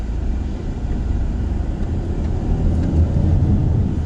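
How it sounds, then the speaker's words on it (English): A 2020 Volkswagen Tiguan Allspace R-Line with the 2.0 TSI engine pulls under steady heavy throttle through a slalom, giving a continuous low engine drone and road rumble that swells slightly toward the end, with no talk. "I'm putting quite steady, but quite heavy throttle input"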